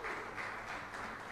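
Audience applause for a jury member at a youth talent-search rock festival, a steady wash of clapping from a crowd that stays even from start to finish, with no pauses and no voices on top.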